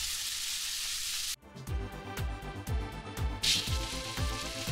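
Chilli and coriander powder stir-frying in a pan for a thin hilsa fish curry, with a loud sizzle that drops away and then gives way to repeated scraping strokes of a spatula against the pan.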